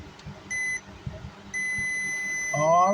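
A Taramps Smart 3 car amplifier sounds two steady electronic beeps when a probe meets its positive lead during a cooling fan repair. The second tone runs longer, with a faint bit of talk underneath.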